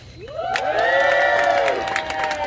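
Stage-show audience at a geocaching event yelling, screaming and cheering together, a loud sustained crowd roar with overlapping high whoops and some clapping.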